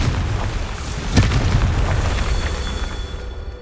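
A Confringo blasting spell goes off in Hogwarts Legacy, a sharp explosive burst with a low boom that rings out over a steady rumbling background before fading.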